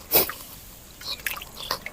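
Water drips and trickles off freshly washed raw chicken outdoors, a few close, irregular splashy drips with one louder wet splash at the start and scattered smaller drops after, with no talking.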